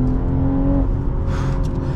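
A BMW M340i accelerating hard as its transmission downshifts, a loud, close engine roar that holds a steady drone before a brief surge of higher rasp, with no talking.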